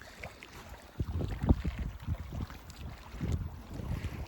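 Wind gusts off a lake at a campsite on Manitoulin Island, buffeting the microphone in low rumbling bursts. The noise is fairly quiet and uneven, with no voices.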